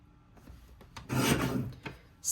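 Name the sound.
trimming paper for a page kit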